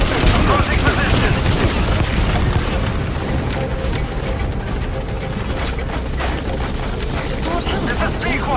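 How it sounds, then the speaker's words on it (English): Support helicopter arriving in Metal Gear Solid V: The Phantom Pain, a loud, steady rotor roar mixed with bursts of gunfire and booms throughout, while radio voices talk over it. "Support helicopter requested."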